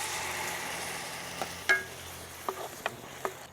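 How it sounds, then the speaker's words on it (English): White wine poured into a hot pan to deglaze it, in a tomato-based chicken parmesan sauce: a soft sizzling hiss with a few sharp scrapes and clicks of a utensil against the pan. "I'm just gonna deglaze the pan a little bit."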